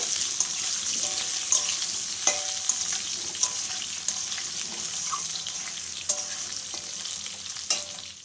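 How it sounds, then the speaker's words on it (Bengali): Potatoes fry in a pan with a steady hiss of sizzling oil and occasional light clinks from stirring, close and continuous with no talking. "আলুটা যতটুকুনি ভাজা আর ভাজা হয়ে গেছে"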